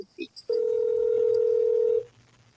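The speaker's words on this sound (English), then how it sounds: "I'm calling this company through their 800 number." A telephone dial tone on a call to a company's 800 toll-free number: a steady electronic hum holding for about one and a half seconds after a couple of brief beeps, heard clearly over faint background.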